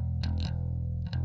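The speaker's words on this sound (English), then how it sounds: "Let's bring in this distortion because it's pretty cool, this overdrive" Bass guitar through an overdrive distortion effect in AmpliTube on iOS, sustained dirty low notes with brief bright pick attacks as notes change, loud and close with no talking.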